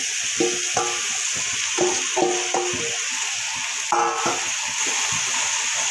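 Mutton boti pieces tipped into frying masala and stirred in a pan, a steady sizzle beneath repeated scraping stir strokes, close and moderately loud, no talk.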